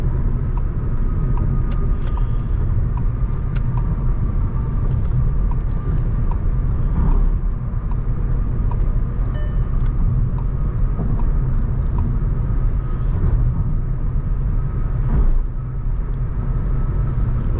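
A Skoda Kylaq car cruises on a highway, with a steady low engine drone and road rumble filling the cabin, plus faint clicks and ticks over the constant hum.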